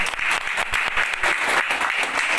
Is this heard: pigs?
no